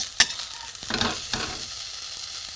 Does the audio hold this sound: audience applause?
no